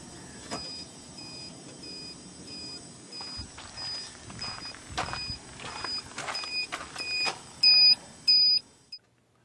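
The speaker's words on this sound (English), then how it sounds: "Now when her turn signal is on, she knows it." An RV turn-signal alarm beeps in a steady repeating rhythm over road and engine noise, the last few beeps louder and longer.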